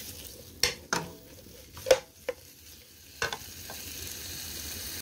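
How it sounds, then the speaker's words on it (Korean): Meal-kit ingredients stir-fried in a pan, with a faint sizzle under several sharp, scattered scrapes and clacks of a utensil against the pan, quiet and close. "이렇게 볶아요"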